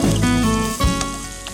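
Chopped spring onions fry in a pan, giving a continuous sizzle close by, with a steady tonal sound running underneath.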